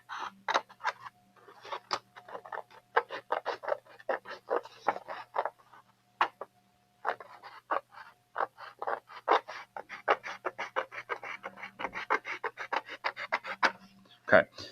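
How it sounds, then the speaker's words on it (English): Scissors snip through paper while cutting out an air racer paper model, a dense run of short crisp cuts close by with a brief pause midway, and a voice talks at points. "So let's just cut."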